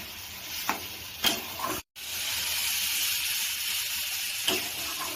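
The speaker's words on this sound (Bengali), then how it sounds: "আর সব কিছু দিয়ে একটু কষিয়ে দিচ্ছি, তারপর জল ঢেলে দেবো" Mustard seeds, cumin, garlic and onion sauté in hot oil for a Bengali tel koi fish dish, giving a steady, close sizzle and hiss with occasional stirring scrapes and a brief dropout partway through.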